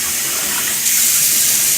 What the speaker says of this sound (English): I like to make like a little sink full of soapy water